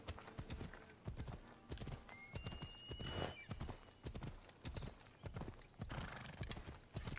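Galloping hooves from the video game Assassin's Creed Odyssey pound rapidly and continuously, with a horse whinnying and snorting over the rhythmic clatter.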